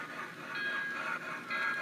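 A steam train rolls over the ACR crossing of the CNR line at Oba, a brief, faint rumble of wheels and railcars with a thin, high metallic tone.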